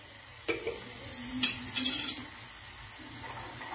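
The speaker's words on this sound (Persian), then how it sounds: "ببینید روغن داغ آمد، نعناها رو اضافه میکنم" Fresh mint leaves drop into hot oil with garlic in a pot for Persian herb soup, giving a sharp hit followed by steady sizzling and scraping stirs close by, with no talk.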